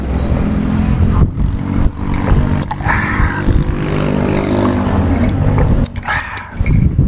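Motorcycles and other road traffic passing along a roadside near a rice-field restaurant in Solo, loud engines rising and fading in overlapping passes, with short gaps between vehicles.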